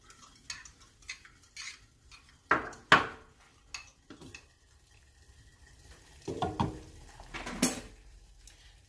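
A pot of cornmeal porridge is stirred on the stove, giving irregular close scrapes and clinks of a utensil against the pot in short bursts, with no talking.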